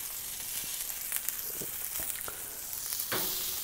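Salmon fillets and asparagus sizzle on an outdoor Blackstone griddle, a steady broadband hiss with occasional sharper pops and crackles, close and continuous throughout.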